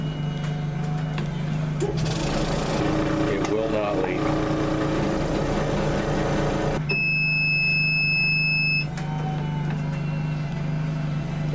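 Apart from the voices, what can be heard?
chamber vacuum sealer running on deer meat package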